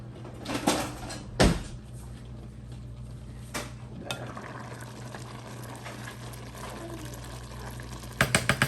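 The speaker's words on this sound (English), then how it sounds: "I'm gonna let that boil and let all the water boil out of there" Rice boiling in buttered water in a pan, a steady low bubbling simmer throughout with a few clinks of cookware knocking nearby.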